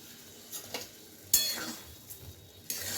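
Pointed gourd dish being stirred in a pan, a spoon scraping in a few distinct strokes over a soft, steady sizzle, with occasional light clinks of utensil against metal.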